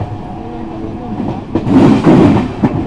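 The 22429 Delhi Pathankot Superfast Express runs at speed past Jalandhar Cantt, a loud steady rumble of wheels on rails that swells into heavier clattering in the second half.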